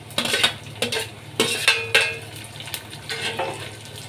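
Onion and tomato masala fries in a pan with stirring, soft sizzling broken by several scraping, clinking strokes of a spoon against the metal, close by with no voices.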